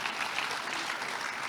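An audience applauds for the guest Aline Sano at a talk show taping, a dense, steady wash of clapping filling the room without pause.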